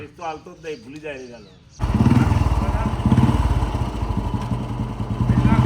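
A vehicle engine runs while a learner works the clutch and shifts gear. It starts abruptly after a person talks, then holds a loud, steady chugging idle with some rising revs.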